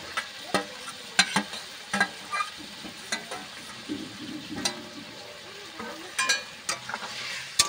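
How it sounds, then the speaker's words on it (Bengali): Small-fish curry sautéed in a pan with a few drops of oil, giving a soft sizzle under repeated scraping and tapping strokes of a stirring spoon at an uneven rhythm. "বেরো তুল দিয়ে 5 ফোঁটা দিয়ে নেড়ে নেব, 2 মিনিট কষে নেব।"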